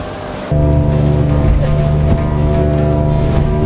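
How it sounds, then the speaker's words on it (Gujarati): A speed boat engine drones steadily and loudly over rushing, splashing sea water as waves break around the hull off Shivrajpur Beach, Dwarka. "સ્પીડ બોટ છે પાછા લાવી રહ્યા છે આ લોકો"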